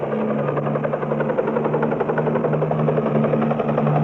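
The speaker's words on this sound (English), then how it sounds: "Modern-day cowboys and helicopters, Scott and his pilots use the sound of their machines to drive the elk." A helicopter drones steadily overhead while herding elk in a national park, its low rotor thump and engine hum holding constant and loud throughout with no voices.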